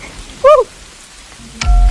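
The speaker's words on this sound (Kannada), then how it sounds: "ಹಾ, ಮಳೆ ಬರ್ತೈತೆ ಯೂನಿವರ್ಸಿಟಿಲಿ" Rain falls on the PES University campus in Bengaluru, a soft, faint patter in the background, broken by a brief chirp and a thump near the end.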